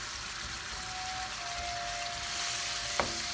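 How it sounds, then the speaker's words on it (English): Bacon frying in a Chinese wok, a steady close sizzle and crackle with a brief clink near the end, no speech. "bacon in the Chinese wok."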